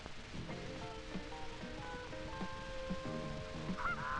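Canada geese honking near water at a ground nest, a dense overlapping chorus of repeated nasal honks from several birds, steady and fairly close, with no talk.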